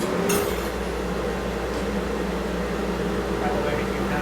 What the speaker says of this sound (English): I'm going to turn on the fan and the sander